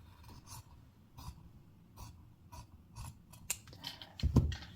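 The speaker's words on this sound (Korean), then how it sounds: "3cm 정도 지점에서 이렇게 가위집을 하나 이어줍니다." Scissors snip a notch into blouse fabric near the neckline and curved edge while sewing a Y-collar blouse, giving several short, crisp cuts in an uneven rhythm, close and fairly quiet, with no talking.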